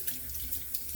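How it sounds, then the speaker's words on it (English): Water running from a sink tap onto a shaving brush during a wet shave with a Gillette razor, a steady, close rush of flowing water with no voices. "Putting some water in the brush."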